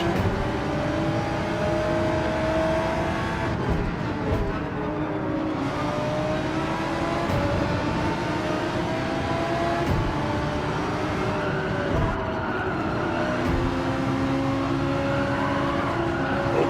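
A Corvette and a Ferrari 458 race in Gran Turismo 7, their engines droning and revving loudly and continuously as they accelerate, with brief tire squeals and other cars roaring alongside, and no talk.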